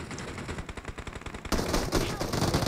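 Rapid automatic gunfire from the mobile battle royale game BGMI, a close rhythmic string of shots that gives way to a denser, louder burst of continuous firing in the second half.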